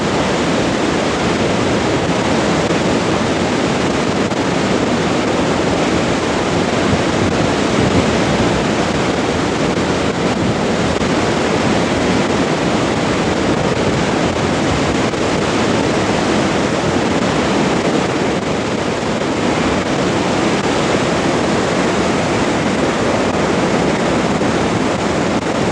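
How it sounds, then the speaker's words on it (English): A loud, unbroken roar of rushing river water at Gangotri, dense and steady throughout with no pauses or voices. "noise of the river is heard everywhere in Gangotri."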